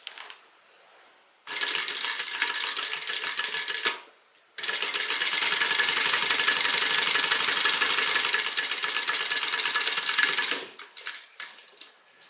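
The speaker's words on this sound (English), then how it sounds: "we're going to top stitch right along this top edge" A sewing machine top stitching the edge of a leather hip bag, running in two steady whirring, rapidly ticking stretches with a brief pause between them.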